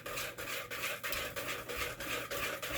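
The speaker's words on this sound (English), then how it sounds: "It's all whisked together." Eggs and batter for a melting chocolate cake being whisked in a bowl, a steady rhythmic scraping with regular strokes about three per second, close and fairly quiet, with no talking.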